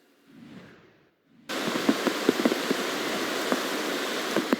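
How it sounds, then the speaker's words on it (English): A heavy tropical downpour on Mount Desert Island, Maine, in Bar Harbor: a sudden, dense, steady roar of rain with scattered louder drops and splashes, following a brief muffled sound. "It's been steady, consistent tropical downpours for at least 2 hours now."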